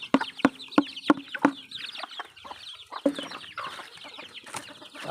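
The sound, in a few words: chickens clucking on a farm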